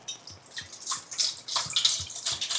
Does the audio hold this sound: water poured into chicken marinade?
yes